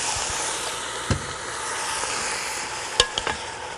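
Vegetable broth poured into a pan of cooking vegetables for a Tuscan ribollita, giving a steady close hiss and sizzle with a few sharp clanks of a spoon stirring.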